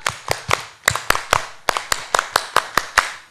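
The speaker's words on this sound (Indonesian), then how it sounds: "Bukan main, tepuk pramuka." Scout rhythmic clapping, tepuk pramuka, at a Pramuka anniversary gathering: a group claps in unison in a patterned rhythm of sharp, crisp claps with short pauses between phrases, close and clear, no talk.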